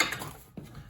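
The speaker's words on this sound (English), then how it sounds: "ratchet this off" A ratchet wrench loosens a caster nut on a Wright Stander ZK mower with a short burst of quick mechanical clicks, fading and then catching once more, close and quiet.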